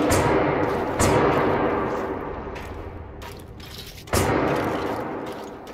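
Gunfire in Chernobylite, two sharp, loud gunshot blasts a few seconds apart, each trailing off into a long echoing reverberant decay, with no voices.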